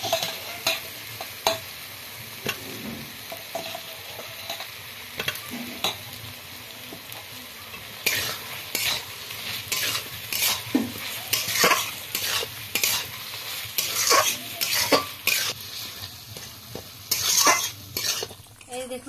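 A spoon stirring a vegetable curry as fried potatoes go into boiling gravy, with scraping strokes in an irregular rhythm over a soft, steady bubbling simmer, close by.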